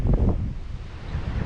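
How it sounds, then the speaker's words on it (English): Strong outdoor wind roars and buffets a microphone at a dirt-jump building site, loud and continuous for the short stretch with no voice. "tell by the audio, but it's getting just crazy windy."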